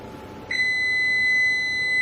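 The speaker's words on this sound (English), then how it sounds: "I have 4 seconds left on my timer." A kitchen timer sounds a steady, continuous high electronic beep that starts abruptly and holds, fairly loud over faint room noise, with no talking.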